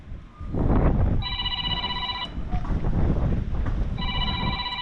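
A phone ringtone trills in two bursts over strong wind rumble buffeting the microphone, fairly close.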